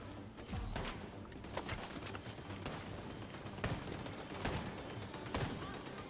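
Automated turret fire in The Division 2, a string of sharp gunshot cracks spaced through a dense, noisy battle bed, with faint speech mixed in.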